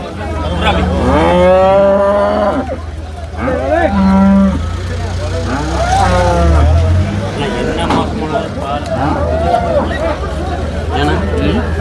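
Cows loaded onto a vehicle at a busy cattle market moo loudly and repeatedly, with long drawn-out calls over a low engine hum and people talking in the background.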